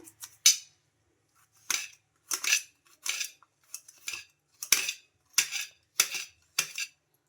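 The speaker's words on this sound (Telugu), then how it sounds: "తీసేసుకొని ఇలా చిన్నగా కట్ చేసుకుందాం" A knife chops coconut flesh into small pieces on a board, about ten crisp, evenly spaced cuts heard close up with no talking.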